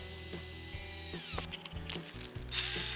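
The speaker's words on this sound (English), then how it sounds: "A blue scourer attachment here worked better. This removed flaking paint and did not scratch the metal." A power drill fitted with a blue scourer attachment strips flaking paint from motorcycle fork tubes, a steady close whine with tonal harmonics that dips and scuffs as the pad meets the metal, then rises again.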